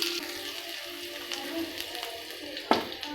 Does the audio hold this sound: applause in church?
no